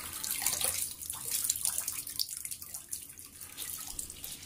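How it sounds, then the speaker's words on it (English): Fairly hot water in a kitchen sink, splashing and trickling with sloshing bursts and drips as something is moved through it, near and moderately loud. "I got a sink full of fairly hot water"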